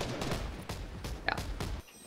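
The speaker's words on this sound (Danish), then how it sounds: "der er en, der skyder på mig" Fortnite gunfire: a quick burst of several faint shots in about two seconds, rapid and fairly distant.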